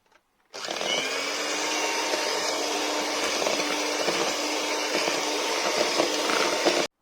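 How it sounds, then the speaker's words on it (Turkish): Electric mixer whisking eggs and sugar for a black mulberry cheesecake batter: a steady, loud whirring drone that starts abruptly after a brief silence and runs evenly to the end. "Üç adet yumurtayı tek tek koyuyoruz ve çırpıyoruz."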